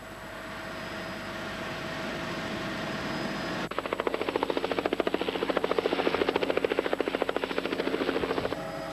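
Aircraft flying over a jungle plateau in 1991, near huge cave mouths in the vegetation: a steady engine drone gives way to a loud, close, rapid rhythmic beating that holds steady to the end, with no voices.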